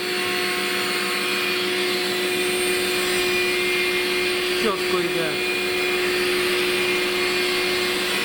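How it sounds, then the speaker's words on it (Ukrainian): A vacuum cleaner runs steadily as a loud, continuous drone with a fixed whine while a grinding tool's spindle quill is being ground; a person speaks briefly over the noise. "Ну, отак от пилососом."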